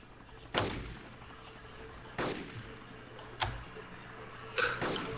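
Helicopter gunfire in the DayZ mod video game sounds as four separate heavy booming shots, spaced a second or more apart, each with a short echoing tail over a low steady hum.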